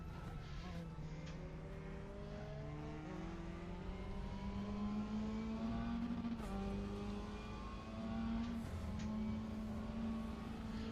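Race car engine in the Raceroom Racing simulation game, a loud steady engine drone climbing in pitch through the gears, with brief shifts and a tire squeal as the car slows for a turn.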